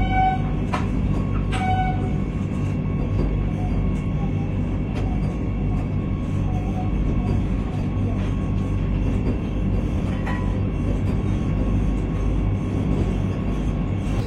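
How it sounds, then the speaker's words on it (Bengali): The Howrah–Rourkela Vande Bharat Express pulls into Chakradharpur station, recorded from on board: a loud, continuous rumble of wheels and carriage noise with a few faint clicks and squeaks, no talk. "11:03 ঝাড়খণ্ডের দ্বিতীয় স্টপেজ চক্রধরপুরে আমাদের এই বন্দে ভারত ঢুকলো"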